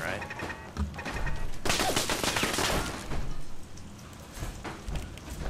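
Rapid explosive-round gunfire in the Fallout 4 video game, delivered in dense crackling bursts that come close together, fill the middle of the stretch and then drop off into scattered, quieter pops.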